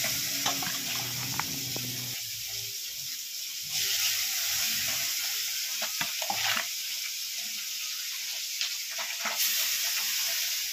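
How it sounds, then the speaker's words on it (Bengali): Fish pieces rubbed with turmeric and salt sizzle steadily in a hot pan for home cooking, a continuous close crackling hiss broken by a few soft clinks and stirring knocks. "এখন মাছগুলোকে ভেজে নেওয়া হবে।"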